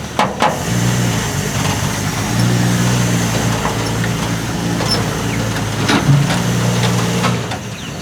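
A truck engine labours at low revs while trying to tow a load, a loud, close, steady rumble that dips briefly and picks back up, with no talk.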